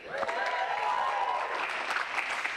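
Audience applause at a comedy competition finals show, a dense wash of clapping from a crowd, steady and fairly loud throughout, with a voice briefly audible over it.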